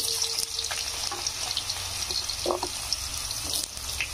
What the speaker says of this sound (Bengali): আলুটা আমি ভালো করে ভেজে নেবো একটু।